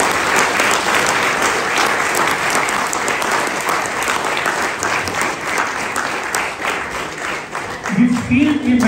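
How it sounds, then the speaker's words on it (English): A large crowd at a Pakistani Independence Day celebration in Australia gives sustained, loud applause, dense clapping that holds steady, with a voice rising near the end. "So please give a big round of applause for the Pakistani diaspora here in Australia."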